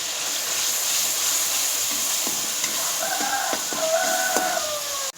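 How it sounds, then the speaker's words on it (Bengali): Ground spices fry with a splash of water in a pan for a yogurt and pointed gourd curry, a steady close sizzle and hiss with a few light stirring scrapes near the end. "অল্প একটু জল দিয়ে মশলাগুলো ভালো মতো কষিয়ে নিই।"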